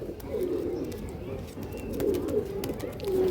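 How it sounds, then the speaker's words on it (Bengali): Malbai pigeons, including a hen, coo in low, continuous, overlapping murmurs close by, with someone talking over them. "বাম্পার কোয়ালিটি পায়রা আছে বন্ধুরা"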